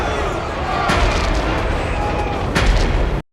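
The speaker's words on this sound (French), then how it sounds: "la formidable et super explosion de la Lune Klingon en début de film" A huge rumbling blast as the Klingon moon explodes in Star Trek VI, a dense roaring boom sustained for several seconds with a couple of sharper cracks.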